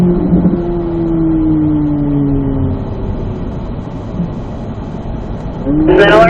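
A Corvette Z06 lapping a race track at Ron Fellows East, its engine note falling steadily as it slows or passes, then a fresh rise in revs at the end, moderately loud and fairly close.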